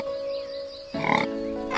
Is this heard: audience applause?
no